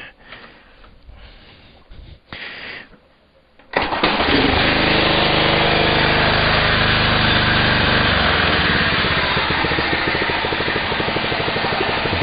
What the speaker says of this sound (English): so now it's just idling